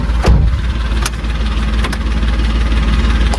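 A farm tractor's engine runs with a steady low rumble, broken by a few sharp clicks and knocks, heard at close range without any speech.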